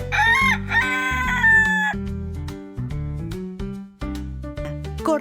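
A rooster crows in a loud, drawn-out, harmonically rich call near the microphone, with several shifting pitched segments and no speech.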